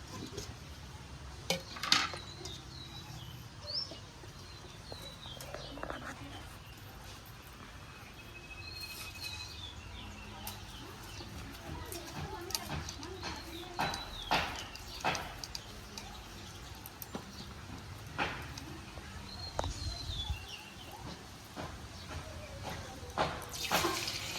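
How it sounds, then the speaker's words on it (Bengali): Chicken pieces for crispy pakora fry in moderately hot oil in a wok, giving a long, steady crackling hiss dotted with small pops and occasional utensil clinks. "এবার আমি মাংসগুলো ভেজে নেব"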